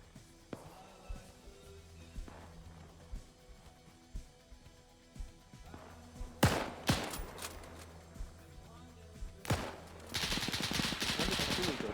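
Bursts of machine gun fire in Arma 3, scattered short rattles and single shots at first, then louder close bursts and a dense sustained volley near the end, with faint voices under them.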